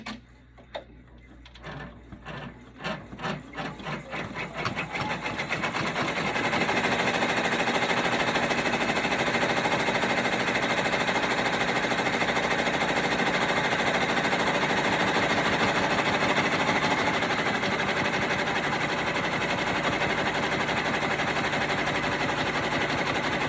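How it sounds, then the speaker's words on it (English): Embroidery machine stitching a satin border around appliqué melons on an iron-on patch, starting with a few separate clicks and then settling into a loud, steady rapid needle clatter that runs continuously. "So now it's going to do a satin around each of the melons."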